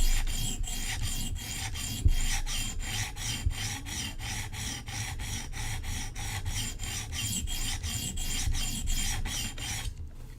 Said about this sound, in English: We're going to do one quick pass. Reduce the burr.